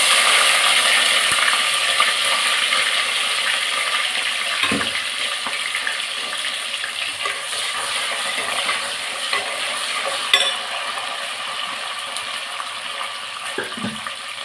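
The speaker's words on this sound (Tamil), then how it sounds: "அரைச்சி வச்ச சாம்பார் வெங்காயம் அதையும் போட்டு நல்லா வதக்கிக்கலாம் எண்ணெயிலே" Chopped sambar onions and curry leaves sizzle in hot oil in a pan, a continuous bright hiss with a few soft clinks of stirring, close and steady with no talk.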